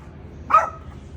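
A single short dog bark, close and clear, over a quiet background.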